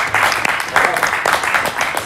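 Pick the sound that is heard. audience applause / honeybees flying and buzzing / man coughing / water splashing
audience applause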